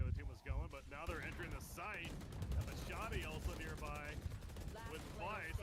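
Gunfire from a Valorant-style tactical shooter: bursts of shots and game effects mixed with in-game sounds, with people talking over them throughout.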